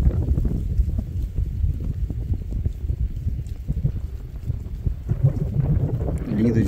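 Wind buffets the microphone on a fishing boat in rain, a loud, uneven low rumble that gusts throughout, with a voice briefly rising through it near the end.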